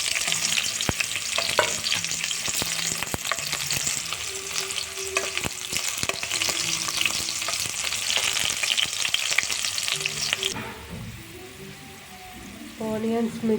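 Green chillies and onions fry in hot oil in a pan, a loud steady sizzle with frequent scraping stirs for about ten seconds, then the hiss drops sharply and softer frying continues with faint background voices.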